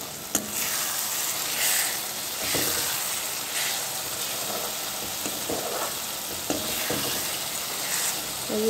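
Onions fry in a pan with a steady, close sizzle and a few faint clinks of stirring, continuous throughout without any voices.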